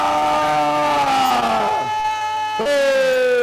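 Worship crowd at a prayer group shouting and cheering together in long, sustained voiced cries, loud and close, with a brief dip before a fresh surge of shouting.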